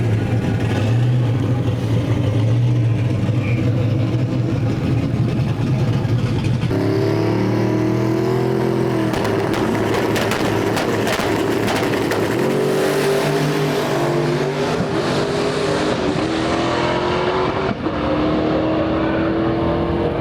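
A stick-shift Pontiac GTO launches hard down a drag strip at Bradenton Motorsports Park, its loud engine revving and roaring through gear changes as it pulls away, the pitch climbing between shifts before fading into the distance.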